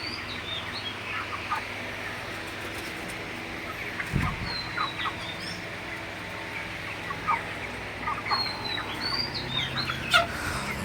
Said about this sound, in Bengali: আমি এখন মুরগিগুলোকে খাবার দিয়ে দিছি আপনারা দেখেন সব মুরগিগুলাই খাইতেছে